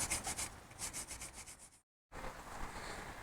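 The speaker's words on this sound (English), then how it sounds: "we're just going to wire brush the hub, get some of that rust off" Wire brush scrubbing rust off a BMW X5 F15 rear wheel hub, rapid rhythmic rasping strokes close up, a brief pause, then steady brushing resumes.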